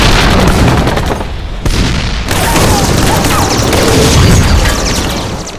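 Sherman and Japanese Ha-Go tanks firing at point-blank range, a dense, loud, continuous wash of gunfire and booming blasts with brief dips between bursts.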